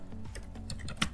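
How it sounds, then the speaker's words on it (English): Typing on a computer keyboard during a Python/Django stock management app setup, a quick run of light clicking keystrokes close to the mic over a steady background hum, ending on one sharper key press. "if I start the app by typing"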